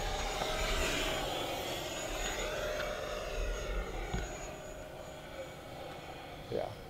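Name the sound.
Arrows L-39 Albatros 50mm RC EDF jet flying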